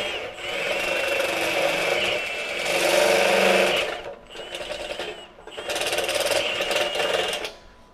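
A Hercules cobalt step drill bit boring through metal, a loud whirring grind in two bursts separated by a short dip, close up with no talking.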